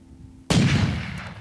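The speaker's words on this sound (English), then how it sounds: "Nice shooting, Rye." A single sharp rifle shot during a wood bison hunt in the Yukon, loud and close, cracking suddenly out of near silence and trailing off in a long rolling echo.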